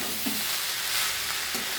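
Cooked rice being fried and stirred in a kadai over a low gas flame, a steady close sizzle with a couple of brief scraping stirs of the spatula.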